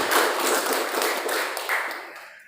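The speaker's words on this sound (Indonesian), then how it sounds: "Tepuk tangan buat panitia." An audience claps for the committee at a village head election event in Sidoarjo, a brief burst of dense applause from a crowd that swells and then fades away over a couple of seconds.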